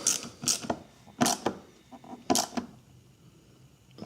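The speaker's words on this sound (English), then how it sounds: "Now let's tighten up some hose clamps." A 1/4 inch socket ratchet tightens hose clamps during a Suzuki Forenza cylinder head installation, giving several short, close mechanical clicking bursts separated by pauses.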